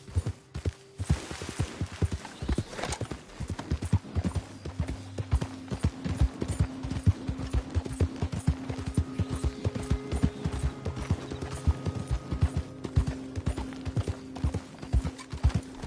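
Steady clip-clop of a horse's hooves trotting in a PS4 video game, brisk and continuous throughout, with an occasional whinny breaking through.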